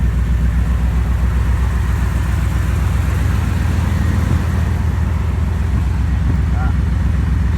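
A warmed-up V8 in a Chevy OBS truck with a 5-speed, running at a steady, loud, rumbling idle with a low pulsing beat, close by and unchanging.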